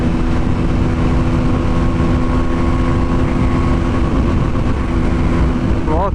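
A KTM Duke 160 motorcycle held at top speed on the road, its engine droning loudly and steadily near the rev limiter, mixed with heavy wind rush throughout.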